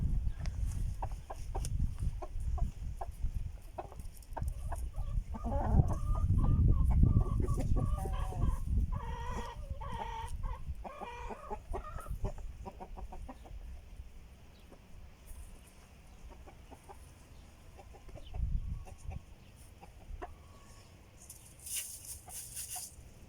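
Hens clucking in a farmyard coop, a busy run of clucks and cackles that swells loudest early on, then settles into softer scattered calls with brief louder bursts later.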